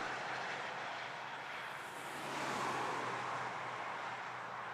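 Highway traffic beside a wooded campground in Eastern Kentucky: a steady, fairly distant roar of passing vehicles that swells slightly midway, with no talking.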